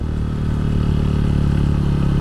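Motorcycle on a solo night ride from Mumbai to Lonavala, its engine a steady low throbbing drone with rattling clatter, close and loud, holding an even pace with no voices.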